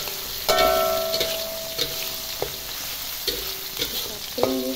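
Green beans and tempe stir-frying in a pan, giving a steady sizzle broken by several sharp scraping and clinking strokes of the spatula across the pan.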